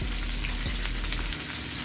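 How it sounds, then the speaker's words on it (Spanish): A pan of green and red peppers fries with a continuous, fairly quiet crackling sizzle. Occasional stirring is heard and there is no talk. "Salteo un poquito"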